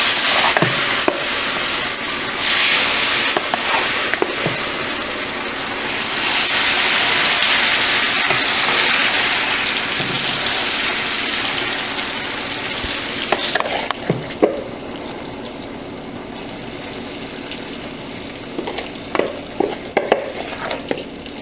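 Plantain slices frying in hot oil, a loud, dense crackle that swells and then eases as a spoon stirs through them, with scattered pops and clinks toward the end.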